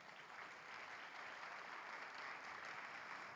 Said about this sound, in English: Let's go ahead and clap for everyone involved.